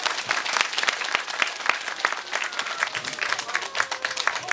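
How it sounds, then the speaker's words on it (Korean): Applause from a festival concert audience at an outdoor performance, dense and lively clapping from a large crowd with some cheering mixed in, continuous and fairly loud. "박수 한번 주세요."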